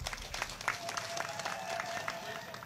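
An audience applauds a government minister at a public event, scattered claps rising into a moderate, somewhat distant round of applause with crowd murmur and a voice faintly underneath.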